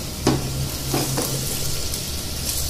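Onions, cumin and potatoes fry in a pan for baingan ka bharta, a steady close sizzle with a couple of soft stirring knocks near the start.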